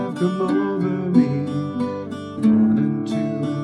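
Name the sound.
Irish bouzouki picking a song's verse chords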